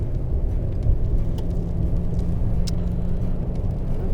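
A Toyota Tundra truck drives down a snowy road at about 60 mph, with a steady low engine and road rumble throughout and faint higher ticks and hiss on top, no voices.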